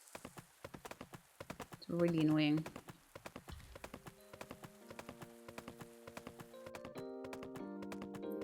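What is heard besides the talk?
horse hooves clip-clopping in video game Pumpkin Days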